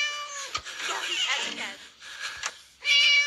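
A cat meows repeatedly in Scary Teacher 3D, with drawn-out, whiny cries one after another, close and fairly loud, ending in a sharper, louder meow.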